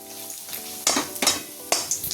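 Whole spices such as turmeric root and cardamom are stirred and dry-roasted in a pan for homemade masala. A soft crackle runs underneath, broken by three short, sharp scraping sweeps of the spoon across the pan.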